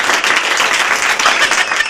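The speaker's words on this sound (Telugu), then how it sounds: "అబ్బాయికి చప్పట్లు కొట్టండి అందరూ." An audience claps together for a boy on a Telugu television game show, a dense, steady burst of loud applause that fills the whole moment with no talking over it.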